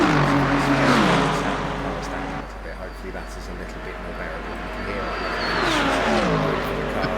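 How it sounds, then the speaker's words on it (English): A GT3 race car in a sim racing game accelerates hard down the Mulsanne straight at Le Mans, its engine pitch climbing through the gears, while commentators talk over it. "And then Dan's put the throttle down"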